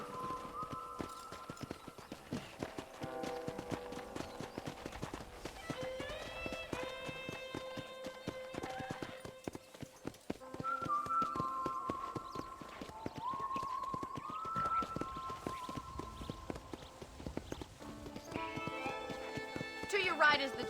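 Horse hooves clip-clop steadily in a Red Dead Redemption game scene while a voice speaks over them, with a neigh breaking through and music-like tones in the background.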